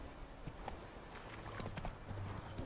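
Roach the horse running in a video game, hooves clip-clopping in a quick, steady rhythm throughout a short burst, heard close against a dense background.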